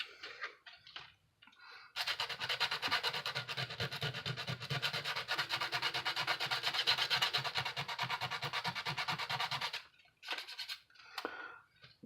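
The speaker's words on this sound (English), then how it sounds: "If you want to remove the Nerf logo, I suggest that you use a very coarse grit sandpaper." Coarse-grit sandpaper scrubs printed writing off a plastic Nerf Quadrant blaster in one continuous bout of fast back-and-forth rasping about eight seconds long, close and fairly quiet, with a few short scrapes before and after.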